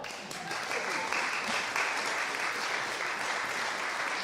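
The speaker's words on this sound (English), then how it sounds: "Give her a big round of applause." A concert audience at a chamber music festival applauds steadily, a dense wash of clapping that holds at an even level throughout.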